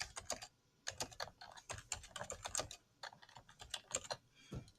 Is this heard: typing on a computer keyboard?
yes